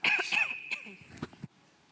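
A person coughs a couple of times in quick succession, close to the microphone, followed by a brief throat-clearing sound, then quiet.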